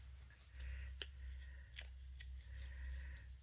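Paper pieces for a retro rocking horse model are burnished with thumbnails, giving soft rubbing and scraping strokes with a few sharp clicks, close and quiet over a low background hum.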